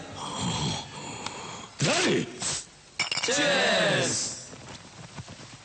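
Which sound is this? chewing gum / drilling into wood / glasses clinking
glasses clinking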